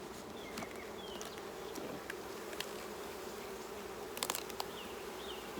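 Honey bees buzz around an opened nucleus hive, a faint, steady hum with a few brief clicks and knocks of handling, no voices.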